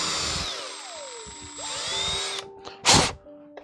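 A reamer spins in a screw hole of a 3D-printed printer part, a high whining, pitch-sweeping tool drone for about two seconds before stopping, followed by a short burst of rough grinding and a few small clicks.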